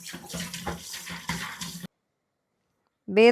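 Cooled, previously boiled water pours from a pot into a container with a steady gushing splash, which stops abruptly; a brief voice follows.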